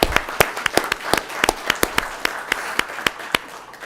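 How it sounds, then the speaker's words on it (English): Scattered audience clapping at a city council meeting, a thin round of distinct individual claps in an uneven rhythm, fairly close and moderately loud, without talk. "So maybe a good round of applause for the city team."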